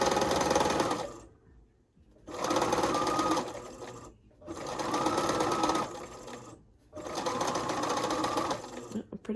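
A sewing machine stitches a flower patch in three steady bursts of rapid mechanical whirring, each lasting about two seconds with short pauses between, loud and close.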